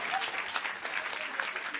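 A live audience applauds at a stage event, a steady, dense wash of many hands clapping at close range with no pauses for the full length.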